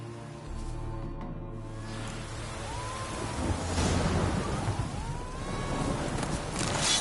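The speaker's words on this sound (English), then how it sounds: "Storm, damn it." A steady, loud rush of rain and wind from a storm in the video game The Witcher 3 fills the scene, with gusts swelling midway and no distinct thunderclap standing out.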